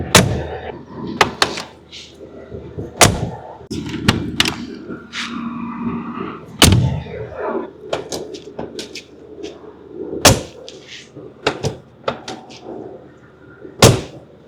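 Doors of a 2026 Mercedes-AMG G63 are opened and shut repeatedly, sharp solid thunks and latch clicks spaced a second or two apart, close and distinct with quiet gaps between.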